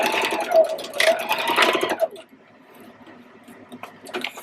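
A sewing machine stitching fabric for a quilt block, a close whirring run for about two seconds that then drops to a quiet background, with a voice speaking over part of it.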